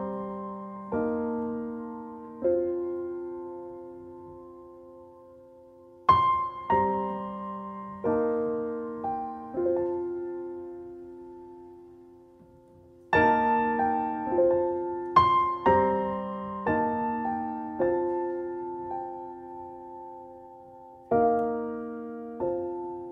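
Solo piano playing a slow melody with chords, each note struck and left to ring and decay, with short pauses between phrases.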